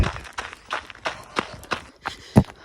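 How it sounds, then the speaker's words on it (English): Rhythmic footfalls of someone jogging on an icy, hard, slightly crunchy surface, about two steps per second, close by, with faint breathing between them. "My little feet plodding along."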